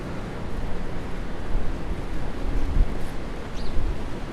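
Strong winter storm wind gusts steadily through a New York City street in freezing weather, a dense, rumbling roar buffeting the microphone with swelling gusts and no voices.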